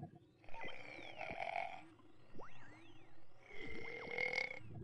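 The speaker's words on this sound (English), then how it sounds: "you should be able to pick up the burping sound on the duck's underwater microphone" Burping sounds from sardines echo underwater, with deep gurgling belches and bubbly, sliding tones spread across a few seconds.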